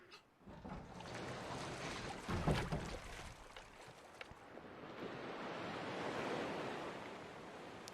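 Ocean waves wash and roar steadily in a video game scene of riding a door across open water, a broad rushing surf with wind-like noise throughout and a louder splash near the middle.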